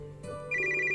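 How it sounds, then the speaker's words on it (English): A phone starts ringing in the video game Major\Minor, a brief electronic ringtone with a sustained bright tone that swells in loudness partway through, close and alone. "Just then, Cinch's phone rings."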